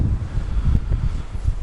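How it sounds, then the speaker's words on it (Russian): Strong, cold north wind buffets the microphone in heavy low gusts, roaring steadily throughout with a constant rushing hiss. "Вот это ветрище, ребята. Северный ветер."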